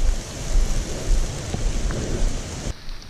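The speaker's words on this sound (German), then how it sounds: "jetzt regnet es noch richtig" Heavy rain pouring down outdoors near old abandoned mine pits, a dense loud roar with low rumbling, continuous until it drops off abruptly near the end.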